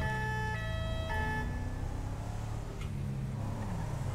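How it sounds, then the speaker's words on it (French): A French two-tone emergency siren in the video game GTA 5 alternates between its two pitches in a sustained, fairly close wail over road and engine noise. "étant donné que j'entends les deux tons"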